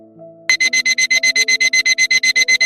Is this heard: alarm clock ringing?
yes